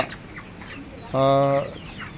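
A single short hen cluck rises clearly over a quiet background in a small poultry farm shed, lasting about half a second amid faint rustling.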